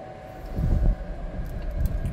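A 2017 Cadillac XT5 Luxury AWD engine idles just after start-up with a steady low rumble, swelling briefly near the start and again toward the end.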